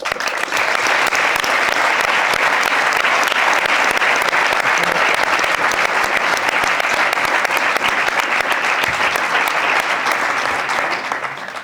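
Loud, sustained applause from a large crowd at a bullfighting gala in Puçol, dense steady clapping that holds for several seconds before easing slightly at the end.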